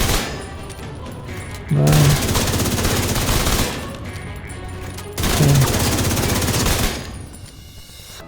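Assault rifle fire in the video game Division 2: two sustained bursts of rapid automatic shots, each lasting about two seconds, loud and close, with a voice counting numbers during the pauses.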